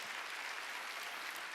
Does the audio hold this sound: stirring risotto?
no